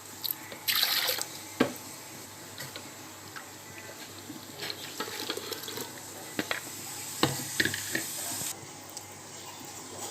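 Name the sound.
water poured to rinse pomegranate juice through strainer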